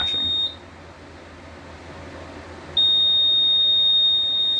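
A fire alarm panel sounding a supervisory signal: a steady, piercing electronic tone that cuts out briefly, then resumes loud and continuous indoors.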